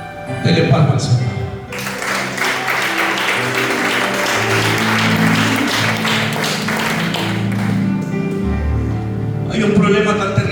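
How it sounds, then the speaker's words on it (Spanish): A church congregation breaks into sustained applause during a Sunday service, a dense wash of clapping lasting several seconds with a voice speaking before and after. "Dele palmas al Señor."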